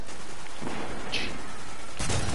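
Scout rifle gunfire in the game Destiny cracks out in a couple of sharp, loud shots over a constant background hum.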